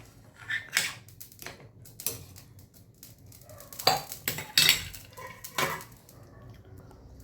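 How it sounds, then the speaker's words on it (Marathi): Shallow-fried paneer being stirred into a mattar paneer masala gravy in a pan, with scattered scrapes and soft clinks of a utensil against the pan at close range, some louder strokes midway, and no talk. "त्यात आपण पनीर टाकूया। पनीर शॅडो फ्राय केले होते आपण आणि असे मस्त त्यात मिक्स करून घेऊया।"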